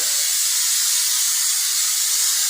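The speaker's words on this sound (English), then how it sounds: "We're just gonna spray it on there" A steady, continuous aerosol hiss of spray adhesive applied to truck camper carpet, close and even throughout with no pauses and no voices.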